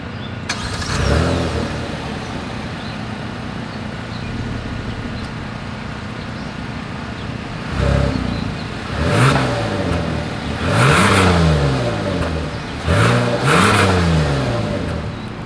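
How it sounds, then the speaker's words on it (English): A 2022 Kia Telluride SUV exhaust turns over with a brief starter whine, settles into a steady idle, then gives several sharp revs that climb and fall in quick succession, loud and close with no talking. "As always, here is that exhaust clip."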